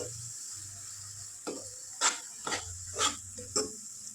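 Egg gravy masala fries in oil in a pan, giving a soft, steady sizzle with a few sharp scraping stir sounds spaced about half a second apart, fairly quiet and alone.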